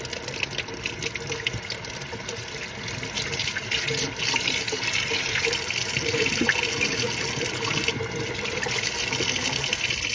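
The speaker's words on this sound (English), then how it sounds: "So I just rinse them until you see it coming through the other end." Tap water runs steadily into a sink while pork is rinsed under it, a close continuous splashing stream with faint handling clatter.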